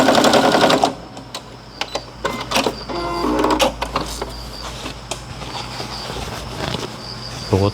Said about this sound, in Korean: 저는 재봉 그냥 바닥 재봉합니다